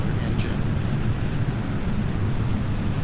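Rocket engines burning in Kerbal Space Program, a steady low roar of broadband noise holding constant throughout the clip.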